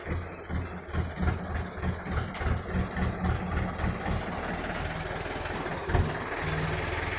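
A freshly repaired tractor engine chugs nearby in a steady rhythmic idle, pulsing at first then settling into a continuous low rumble.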